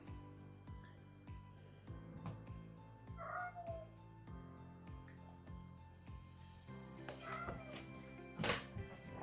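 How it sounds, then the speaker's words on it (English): A cat meows several times in a dim room where someone is repairing a car amplifier, short plaintive cries standing out over low background hum and occasional tapping. "My cat is getting crazy."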